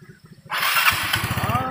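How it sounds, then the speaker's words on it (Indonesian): An old motorcycle engine sputters with low rhythmic thumps, then catches and runs with a loud rough roar. "Mudah-mudahan motor saya ini bisa hidup Pak."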